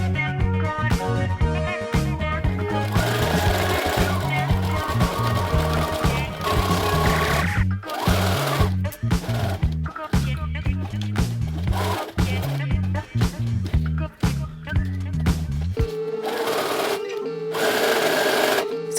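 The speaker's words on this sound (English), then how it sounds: "I sewed that together and then flipped it right side out" A home sewing machine stitches fabric pieces together for the straps of a mini dress, its motor running in a steady, rhythmic whir that is loud and close, with brief pauses toward the end.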